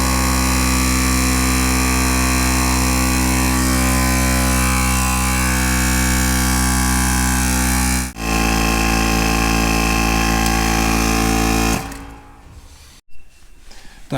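A portable motorcycle tyre air compressor runs with a loud, even mechanical drone, dips briefly once, then cuts off, leaving only faint handling noise.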